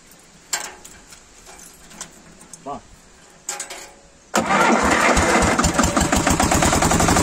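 Car engine cranked on a 12V LiFePO4 battery catches at once and settles into a loud, steady idle up close, after a few faint clicks and light movements.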